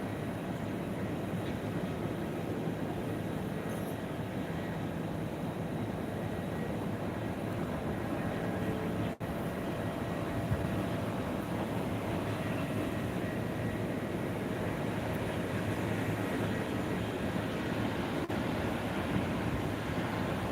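An Airbus A321neo from Singapore at Phuket International Airport makes a steady, broad jet roar that holds unbroken for about twenty seconds at a moderate distance, with no voices.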